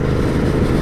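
A Royal Enfield Continental GT 650 with a 270-degree parallel-twin 650cc engine runs close by, producing a dense, loud, continuous low engine throb in a brief burst with no voices.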